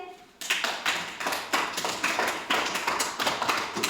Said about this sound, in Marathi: छान टाळ्या वाजव सगळे